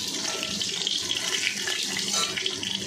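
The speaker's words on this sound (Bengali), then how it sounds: "দেখো মাছগুলোকে ভেজে নিচ্ছি লাল লাল করে।" Pieces of rohu fish fry in hot oil with a steady, moderately loud bubbling sizzle and no voices.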